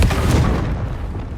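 A magical Bombarda blast in Hogwarts Legacy: one deep, booming explosion that hits hard at once and rumbles on, loud and alone, fading slowly over a second or so.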